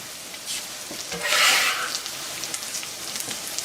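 Fresh cilantro tossed into a hot pan for herb pasta sets off a soft, steady sizzle, with a brief louder hiss as the leaves hit the oil and are stirred, then settling back.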